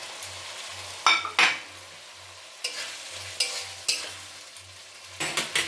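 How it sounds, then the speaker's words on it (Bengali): Potatoes tipped into a pan of frying spice paste give sharp sizzling bursts, followed by intermittent stirring and scraping with a low steady hum underneath, close and without voices. "এখন আমি আলুগুলো দিয়ে দিচ্ছি।"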